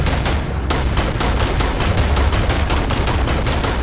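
Rapid automatic gunfire in Starfield, a fast, even burst of loud shots that runs steadily with only a brief break, close and alone with no voices over it.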